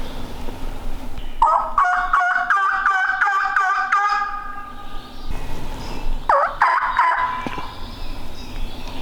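Loud, rapid gobbling from a wild turkey in the Hocking Hills during a hunt, one long rattling burst followed by a shorter second one, over faint outdoor background noise.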